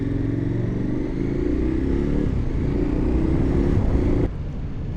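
A KTM Super Adventure motorcycle cruising on a motorway around 70 mph, its engine droning steadily with a loud, close rumble and wind noise, easing slightly just before the end.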